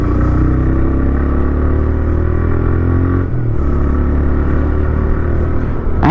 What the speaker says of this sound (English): This has also got a beautiful exhaust note.